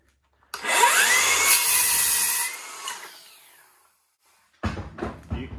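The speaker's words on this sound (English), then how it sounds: "So here's the M18 rear handle." A Milwaukee M18 Fuel rear handle circular saw cuts through wood with a loud, steady whining buzz for about two and a half seconds, then winds down. After a short pause a second, choppier burst of sound follows.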